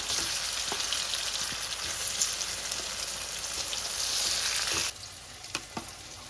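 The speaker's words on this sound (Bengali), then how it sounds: "এবার সুন্দর করে একটু কড়া করে ভেজে নেব।" Parboiled, spice-coated jackfruit sizzles as it fries crisp in a hot pan for vegetable biryani, a continuous bright crackle with occasional stirring clinks, briefly dipping quieter near the end.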